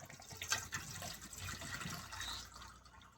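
Coconut water pours steadily out of a freshly cut green coconut, a continuous close liquid splash and gurgle lasting a few seconds, with no voices.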